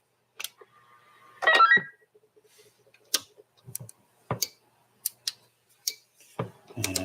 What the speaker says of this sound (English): And those are your 5 Roger beeps.